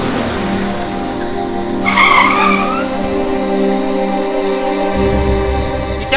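A car's tyres screech loudly in a long skid as it brakes hard to a stop on a road in front of a woman, the squeal close and harsh before an engine idles on.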